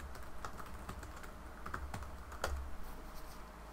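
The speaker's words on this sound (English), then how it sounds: "So if I type in who should attend," Steady typing on a computer keyboard, entering a question into a chat bot: a quick run of close, light key clicks with a low constant hum beneath, no voices.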